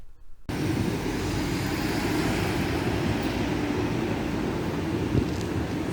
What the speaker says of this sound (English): If you get a tube train to Gloucester Road tube station